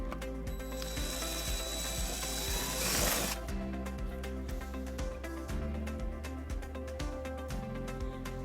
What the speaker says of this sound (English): and then we'll drill our second hole.